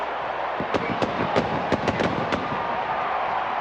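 Fireworks burst over a college football stadium after a West Virginia–Virginia Tech touchdown, a quick run of sharp cracks and pops fired in an irregular cluster over a steady roar of crowd noise.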